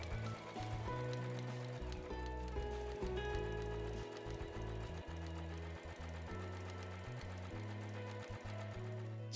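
A sewing machine stitches along the bottom of a small tote bag made from fabric selvage scraps. It gives a steady, close, rhythmic mechanical whir with slight shifts in pace, running without a break.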